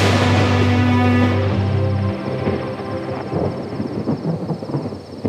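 A heavy roll of thunder rumbles loud and close ahead of rain, a sustained low boom that breaks into crackling, spattering noise as it fades.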